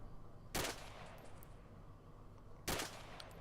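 Two sharp, loud gunshots ring out about two seconds apart while enemies are shot in a combat video game, each crack standing alone over a low background murmur.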